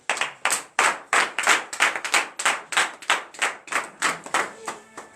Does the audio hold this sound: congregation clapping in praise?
yes